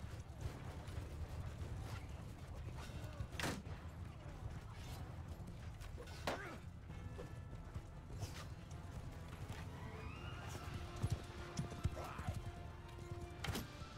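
Horse hooves clip-clopping amid medieval battle clatter in Mount & Blade II: Bannerlord, with creaks and sharp impacts at steady moderate loudness and occasional faint whinnying.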